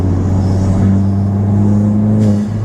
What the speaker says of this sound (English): And you can actually hear the turbo spool up a little bit more too.